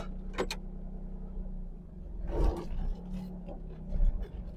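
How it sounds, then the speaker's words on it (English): A Honda Beat PP1 kei car drives over rough ground, its small engine droning steadily with a couple of louder revving swells and some thumps from the cabin. "the Beat already does sound quite different to the Smart now"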